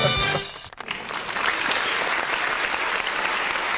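A studio audience bursts into applause right after a short jingle at a French podcast taping, the jingle's tones cutting off as the steady crowd clapping fills the rest.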